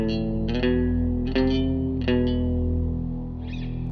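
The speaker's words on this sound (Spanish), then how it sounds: "Es muy curioso cuando se toca toda la escala en una sola cuerda." An electric guitar with chorus and distortion plays the Phrygian dominant scale along a single string. A few sustained notes are picked and slid in a row, each ringing with a thick, echoing effect.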